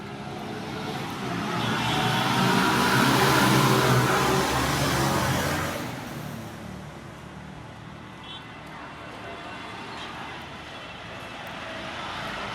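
Light traffic of rickshaws, motorbikes and private cars passes on a quiet city street, with one vehicle swelling nearer, then a low steady hum as it fades.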